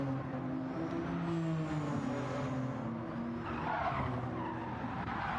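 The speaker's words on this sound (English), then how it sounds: "I hear tyre squeal, but it's just no one going off, it's just tyre squeal." Race car tyres squeal in a racing video game, a sustained high whine over a steady engine drone that swells in the middle and carries on without pause.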